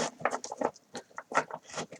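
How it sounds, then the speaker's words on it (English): Large, thick plastic tarot cards are shuffled close by in a quiet room, giving short, irregular bursts of slapping and sliding that come in quick clusters with brief silences between them. "It's more of an adventure to shuffle these ones because they're like a thick plastic card and they're very large"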